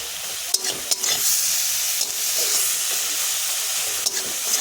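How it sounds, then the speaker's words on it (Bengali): Dhenki greens cooking with prawns in a pan, stirred after resting covered: a loud, hissing sizzle with a few sharp clatters of the spatula in quick succession. "এবার আমি এখানে একটু নাড়াচাড়া করে নেব"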